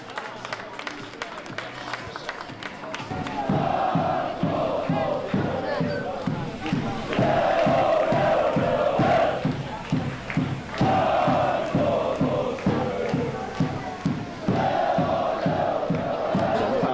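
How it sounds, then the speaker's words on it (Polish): A football stadium crowd at a friendly match in Jelenia Góra keeps up rhythmic clapping and chanting, a sustained wall of massed voices with steady regular claps running underneath. "Wielkie brawa jeszcze raz dla pana Bogusława."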